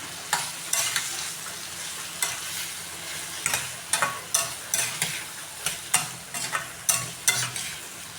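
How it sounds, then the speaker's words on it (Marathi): Bitter gourd sautés in a spice masala in a pan, with a steady sizzle broken by sharp, regular scrapes of stirring and no talking. "थोडीशी हे मसाल्यामध्ये कारलं परतून घ्यायचं"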